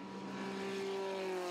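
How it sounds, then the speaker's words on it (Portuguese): An F-Spyder race car engine holds a steady, sustained drone down the straight, a continuous buzzing tone heard at a distance with no talk over it. "Você continua o som do motor do carro do Rafael Aspect."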